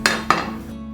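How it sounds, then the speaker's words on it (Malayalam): A pan set down on a gas stove burner gives two sharp metallic clanks close up, about a quarter second apart, then fades to a quiet steady hum. "പാൻ അടുപ്പിൽ വെച്ച് കൊടുക്കുക."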